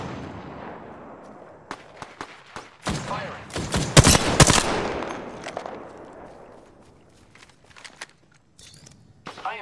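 Gunfire in the shooter Apex Legends, with scattered sharp shots that build into a loud close volley of rapid bursts and then thin out into distant single cracks and footsteps.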